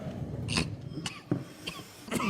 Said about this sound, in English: Okay, I'm on the coughing break now.